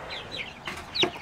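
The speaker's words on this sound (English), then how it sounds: "it's a chicken that's completely black" Clucking from an all-black chicken, a few short close clucks alone with a sharper, louder call near the end.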